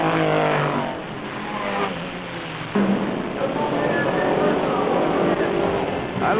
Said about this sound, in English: Right now, 20 specially modified racing big rigs are on the track.